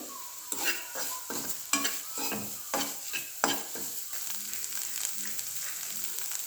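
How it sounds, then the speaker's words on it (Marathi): Grated coconut stir-fried in ghee with a spoon in a pan for sweet coconut rice, a steady sizzle under repeated scraping and stirring strokes, close and fairly loud, with no talking. "तुपावर आपल्याला याला परतून घ्यायचे छान लालसर"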